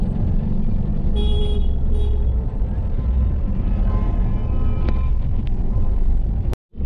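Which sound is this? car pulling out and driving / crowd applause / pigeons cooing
car pulling out and driving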